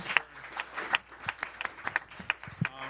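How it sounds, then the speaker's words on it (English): Scattered applause from a conference audience for a panel of speakers, distinct individual claps rather than a dense roar, fairly quiet and uneven. "let's get one more round of applause for our speakers"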